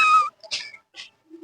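A cat gives a few short, separate meows and whimpering cries close by, each brief call separated by quiet gaps.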